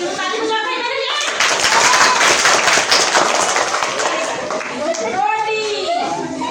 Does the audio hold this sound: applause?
yes